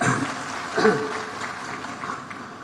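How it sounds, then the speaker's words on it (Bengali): An audience claps at a public talk by a legal adviser, a short spell of applause with a voice heard over it. "এখন সবাই হাততালি দিচ্ছে"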